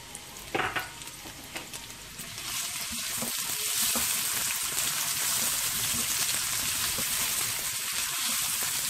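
Onions frying in hot oil in a wok, a steady loud sizzle that swells after a few seconds and holds, with a few sharp stirring clinks near the start.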